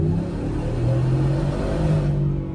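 A supercharged 2025 Ford F-150 pickup accelerates and corners with a loud, close engine drone and rising whine that holds steady, then cuts off abruptly near the end.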